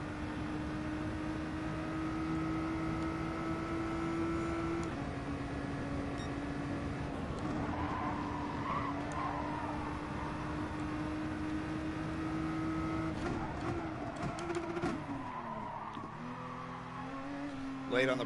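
A race car in the GT Sport video game holds a steady, loud engine drone as it pulls down a straight, with a shift and rising revs near the end, continuous throughout.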